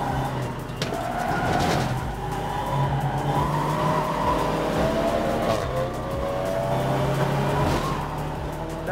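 Race cars roar around Silverstone in a club endurance race in a racing video game, engines droning steadily with rising and falling pitch and occasional tyre squeals, loud and continuous with no talking.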